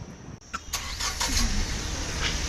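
A car engine cranks and starts as travellers climb in with their luggage on a trip to Vrindavan, then settles into a steady idle; a few brief clicks and thumps sit near the start.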